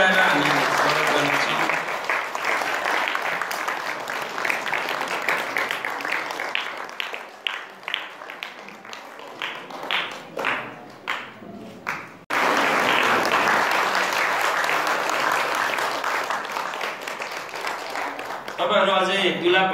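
Guests at a Nepali Christian wedding applaud in long, loud, dense bursts of clapping. There is a brief break about two-thirds of the way through before the clapping resumes, with a murmur of voices mixed in.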